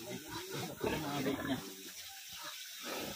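Pigs grunting and squealing on a rural farm in the Philippines, a few close snorts and a louder squeal mixed with running water, with people talking in the background.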